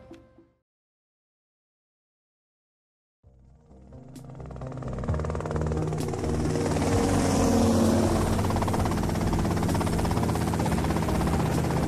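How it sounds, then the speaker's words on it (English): Helicopter in the video game GTA Vice City, a steady loud rotor drone that starts after a brief silence and swells to a constant roar, alone without talk. "Okay, that's them in the chopper."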